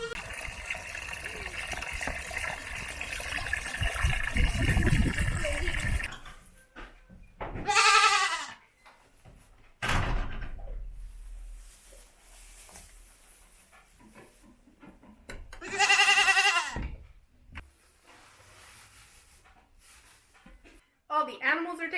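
Goats on a small farm bleat in a few loud, wavering calls spaced several seconds apart, with splashing water and hissing noise early on and people talking nearby.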